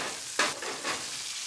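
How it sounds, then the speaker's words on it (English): Pork hitting a hot pan and sizzling, a sudden bright hiss as the meat goes in, then a softer steady frying crackle with light stirring, fairly quiet and close. "And you can hear right away it's sizzling up."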